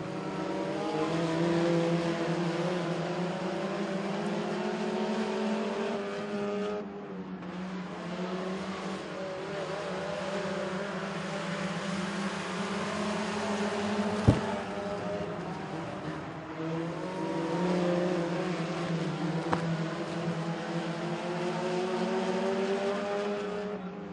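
Mini stock race cars at Crossville Speedway drone around the track in a sustained, fairly distant engine roar that dips briefly and rises again as the field passes, with a couple of sharp clicks and no talk.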